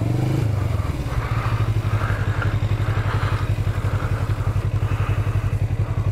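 Motorcycle engine running on an A2 licence exam practice track, a steady loud mid-pitched idle with rapid pulsing beats and slight clatter, close and continuous without talk.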